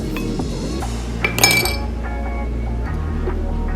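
Ice cubes dropped into a glass or blender jar for a strawberry milkshake, a loud cluster of clinks and rattles near the middle of a steady background hum.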